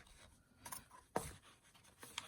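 Sharp scissors snip slits into fabric for a no-sew patriotic gnome craft, giving a few brief, close crisp cuts spaced across a quiet moment.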